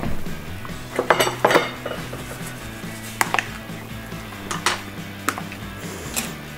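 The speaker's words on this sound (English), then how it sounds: "So we're going to go ahead and mix this up." A utensil stirs fresh spring salsa in a bowl, giving repeated light clinks and scrapes against the dish in an irregular rhythm, close and fairly clear, with no voices.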